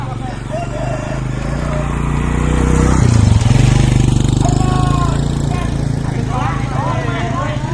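A motorcycle engine drones and swells as it rides past near the Panji Siliwangi monument in Cikirip, Ciamis, peaking loud around the midpoint before steadying, with people talking over it.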